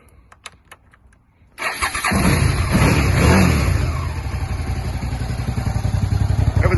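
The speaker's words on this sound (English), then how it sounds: "Give you a listen to the engine." A Suzuki SV650 motorcycle engine starts after a few faint clicks, then idles loudly and steadily close by with a slight rise in revs before settling, and no one talks.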